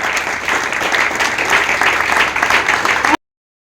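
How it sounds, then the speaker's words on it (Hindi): An audience at a cricket academy training program breaks into loud, sustained applause, dense overlapping clapping that holds steady for about three seconds and then cuts off abruptly. "एक बार खड़ा होके जोरदार क्लैपिंग के साथ तालियां बजा के इस प्रोग्राम का आनंद उठाएगा"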